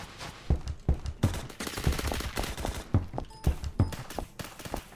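An M16A4 rifle in a game fires semi-auto, rapid sharp shots in quick irregular bursts, close and loud, with some overlapping clatter between the rounds.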